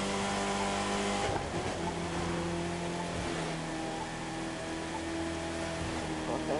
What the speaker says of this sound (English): My car sounds like a bee.